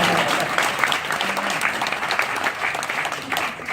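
An audience at an author's book reading in a bookstore gives sustained, fairly close applause, dense and steady throughout with scattered individual claps standing out.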